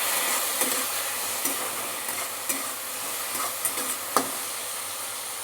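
Taro curry with green chilli paste and added water is stirred in a pan, a constant bright sizzle and hiss with intermittent spoon scrapes and taps, near and without voices.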